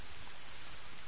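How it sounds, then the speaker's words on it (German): Steady rain in the jungle survival game Green Hell, a dense, even hiss of drops pattering on surfaces, continuous and close with no voices over it. "Es regnet."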